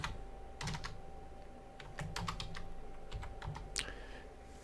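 Keys clatter on a computer keyboard as a site name is typed, short bursts of crisp taps separated by brief pauses, close and clear over a faint steady hum.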